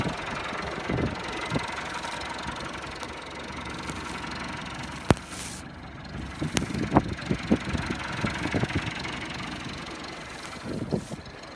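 A tractor engine idles steadily at close range, a low continuous rumble with irregular knocks and clunks on top, while working with sheep in snow.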